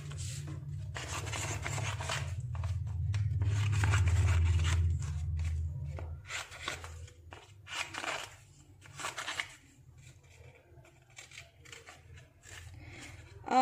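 Scissors cut paper planet shapes for a solar system craft: a continuous rough rubbing and crunching at first, then a series of short, separate snips and crisp paper rustles close by.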